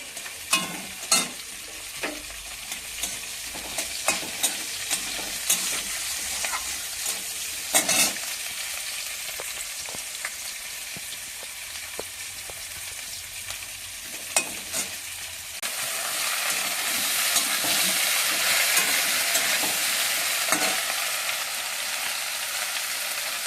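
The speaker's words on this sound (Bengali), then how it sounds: "মাছ ভাজা হচ্ছে লোহার কড়াইতে, ছোট্ট একটা লোহার কড়াই" Fish sizzles steadily in a small iron wok, a close, continuous frying hiss broken by sharp scraping and stirring clicks, growing louder and brighter toward the end.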